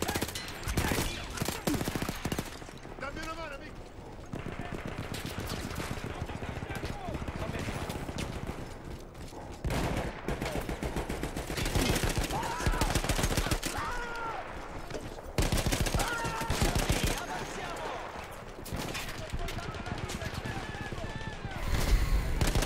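Rapid bursts of gunfire from a mounted gun in the Battlefield 1 video game, set in the Italian Alps with Austro-Hungarian troops, rattle loudly and almost continuously through the clip over dense battle noise.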